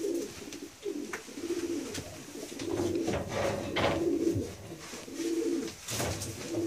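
A racing pigeon hen coos repeatedly in close, low rolling phrases, with brief rustling between calls.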